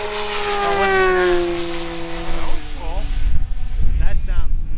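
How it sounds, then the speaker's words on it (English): HobbyKing Yak 11 radio-controlled model plane in red Reno racing scheme, with chrome spinner, makes a loud full-speed pass, its propeller engine whine rising then dropping in pitch as it passes close, giving way to outdoor wind and handling noise. "Let's bring it by here full speed."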